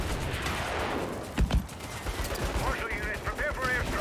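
Bursts of gunfire in a Saints Row street fight, a heavy near shot or two mid-way amid rattling automatic fire, with voices speaking over the chaos.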